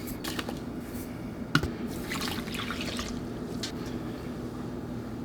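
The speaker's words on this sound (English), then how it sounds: "I put in more water than normal." Water is poured and splashed into a container while a protein pre-workout meal is mixed, giving soft, continuous liquid trickling with a few brief clinks and splashes close by.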